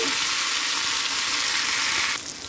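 Garlic fries in a little oil for a tempering, making a steady, dense sizzle up close that drops in level just before the end.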